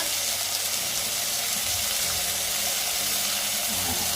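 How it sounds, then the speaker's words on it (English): Tilapia fillet laid on a hot pan brushed with olive oil, frying over medium to high heat, a loud, steady hiss and sizzle that fills the whole moment without a break. "now I'm going to place the fish on the hot pan"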